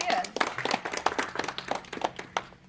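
A small audience gives a round of applause, scattered claps rising and falling irregularly close by, mixed with people talking.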